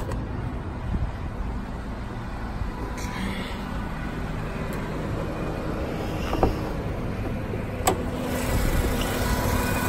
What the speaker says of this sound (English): Okay, so the car's running right now.